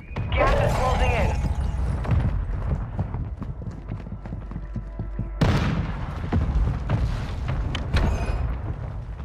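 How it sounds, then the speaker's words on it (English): Mortar strike explosions in a battle royale video game boom repeatedly amid dense game noise, with a sharp loud blast around the middle followed by more rumbling impacts. "Mortar strike on the way."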